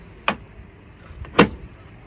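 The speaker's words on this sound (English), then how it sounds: "we've also put this little drawer in here below the fridge" A small, narrow drawer below the fridge in a Drifta Troopy touring system slides and knocks twice, sharp and close, a second apart, against quiet ambience.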